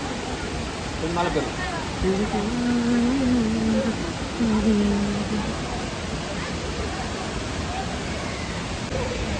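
Waterfall spray at Aagaya Gangai falls pours down as a dense, steady hiss of splashing water, loud and close throughout, with people's voices rising briefly over it.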